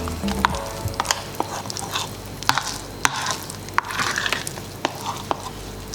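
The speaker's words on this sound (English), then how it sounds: "Fold in your flour gradually. And you keep mixing." Banana bread batter being mixed as flour is folded in by hand, a steady wet stirring with soft scraping clicks of the utensil against the bowl, close and continuous.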